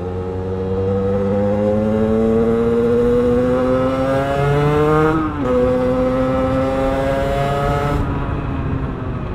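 A motorcycle engine revs hard in long sweeps, rising smoothly in pitch, dipping briefly at mid-clip, then climbing again before easing off, all loud and close with no talking.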